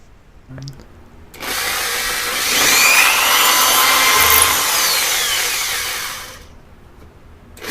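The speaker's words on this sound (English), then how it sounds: "that's drilling the pilot holes" A power drill drilling pilot holes in wood whirs steadily for about five seconds, rising slightly in pitch mid-run, close and loud, then winds down.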